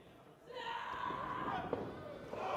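A wrestler is slammed into the ring corner during Ethan Page's match against HOLIDEAD, a sharp thud partway through, under commentary and crowd noise.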